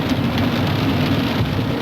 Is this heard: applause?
no